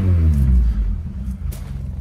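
A Ford Mk1 RS 2000 car engine runs nearby, a loud low rumble that swells briefly as if blipped, then settles into a steady idle over two seconds with no speech.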